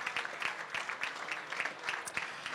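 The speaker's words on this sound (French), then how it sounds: "Monsieur Serge Trigano, qu'on applaudit très chaleureusement, Serge." An audience applauds warmly for a guest at a French interview event, steady clapping lasting the whole stretch, fairly close and with no voices over it.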